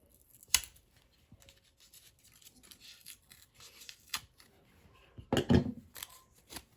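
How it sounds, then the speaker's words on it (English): A pocket knife slices through blue plastic packaging on a Tudor Black Bay 41 watch box, giving a few sharp scraping cuts near the start and a louder burst of cutting and rustling toward the end, close by and in a quiet room. "The handy dandy pocket knife."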